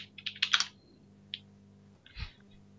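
A short flurry of computer keyboard keystrokes during a Minecraft UHC game, a quick cluster of close clicks followed by a couple of isolated taps over faint background hum.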